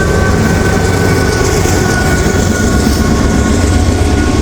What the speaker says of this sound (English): DPU coming through. Look at that thing.